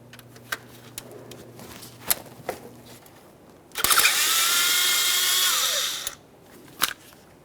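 A 10mm socket tool, likely a powered ratchet, runs in one steady burst of about two seconds while removing an intake bracket bolt on a 2012-2018 Nissan Maxima 3.5L V6, with scattered clicks and taps before and after.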